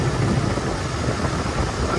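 A 1987 Ford Crown Victoria's Ford 302 V8 idling smoothly, a steady low rumble close by with no revving, and a voice talking over it.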